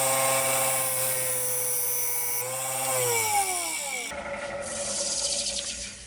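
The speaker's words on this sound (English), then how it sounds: "I think I'll go over to my square tipped scraper" A square-tipped scraper cuts a wooden pot pourri bowl spinning on a woodturning lathe, giving a tonal, rubbing whine whose pitch glides downward before shifting into a rougher, hissy scrape near the end.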